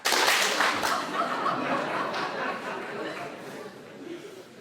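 A lecture hall audience claps together on cue in a sharp, loud burst that fades into scattered clapping, chatter and laughter.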